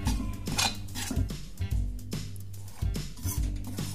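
Wheat flour roasting in ghee for gond laddu is stirred in a pan, with repeated metal spoon scrapes and clinks against the pan in an uneven rhythm, close and fairly loud, with no talk.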